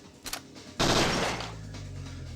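Gunfire in the video game Parasite Eve 2: a short shot followed by a loud, sustained burst of automatic fire that decays into a lingering rumble, heard alone without talk.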